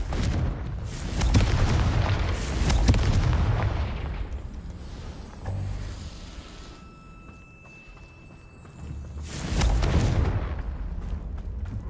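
Confringo explosive spell blasts in the Hogwarts Legacy video game: a heavy booming explosion with rumbling debris, a quieter lull with a faint tone, then a second deep blast near the end.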